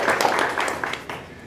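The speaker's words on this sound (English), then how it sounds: "I think we need to give another round of applause" An audience applauds at a county primary candidate forum with a burst of dense, mid-distance clapping that fades over a second and a half.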